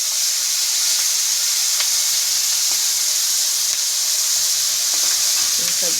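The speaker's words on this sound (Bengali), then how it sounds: "তেলও গরম হয়ে গেছে, সব মাছ দিয়ে দিলাম ঢাইলে" Pangas fish tipped into hot oil in a kadai send up a steady, even sizzle and hiss that holds without break.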